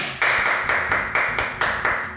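Hands clap in a steady series of about five sharp, evenly spaced claps, fairly close and loud, at the end of an intensive glute-focused workout class.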